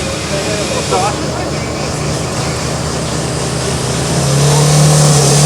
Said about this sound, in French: On monte le régime du moteur tout doucement.